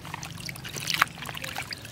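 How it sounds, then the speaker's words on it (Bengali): Mutton pieces being rinsed with water in a village kitchen while cooking mutton biryani: soft, continuous trickling and sloshing splashes with a brief louder splash near the middle, close by, no talk. "এখন আমরা পানি দিয়ে ধুয়ে নিই।"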